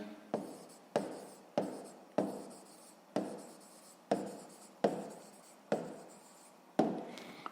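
Pen strokes scratch across paper while a math calculation is written out by hand, about eight short separate bursts at a steady pace, close and clear, with no speech.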